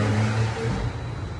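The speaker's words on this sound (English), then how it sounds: "loud ass car with the muffler pipes for no reason" A loud car with muffler pipes rumbles low and throaty nearby while moving very slowly, a short burst of engine noise with no voices.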